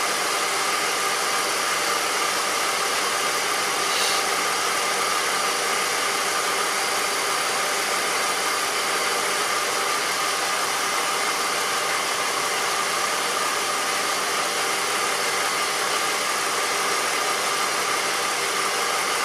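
A car engine idles with a misfire after one fuel injector is disconnected, giving a steady, continuous mid-pitched running hum with slight uneven knocking and no talk.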